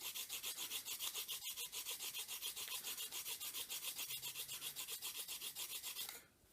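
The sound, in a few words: filing a chamfer onto cast model pieces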